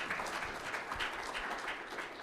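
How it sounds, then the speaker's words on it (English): Conference audience at a closing plenary session applauds the panelists, a brief, moderate burst of many hands clapping lasting just over two seconds. "hopefully a round of applause here for our two panelists, for Stephen and Colleen."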